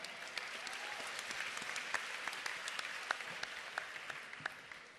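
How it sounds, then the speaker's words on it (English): Press-conference audience gives a child a big round of applause, a steady, fairly distant patter of many hands with scattered sharper claps standing out, no voices over it. "a big round of applause for Aiden"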